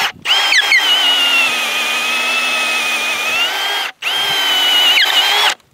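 A Milwaukee M18 Fuel cordless impact drill runs at a loud, steady high-pitched whine, with a short cut-out at the very start and another brief pause near the end before it spins up again.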